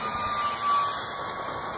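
A homemade Micro Telemaster model airplane flies past with a steady, loud, high electric whine that swells slightly in the middle of the pass, with no voices.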